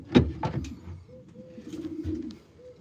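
White flight pigeons coo up close in a breeder loft, a few soft throaty rolling calls with a low hum, plus some faint rustles and clicks from the birds.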